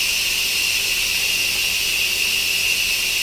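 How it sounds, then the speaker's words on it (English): Hot steam hisses steadily from a pressure cooker's release valve after cooking hamburger stroganoff, a continuous close, bright rushing noise that holds at an even level throughout with no voices. "So you just let it go until it stops hissing and the little red button drops down."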